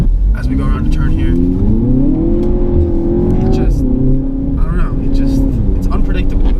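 A 2018 Audi TT all-wheel-drive coupe drives through a turn on wet roads in the rain. Its engine drone rises and falls steadily from inside the cabin while someone talks over it.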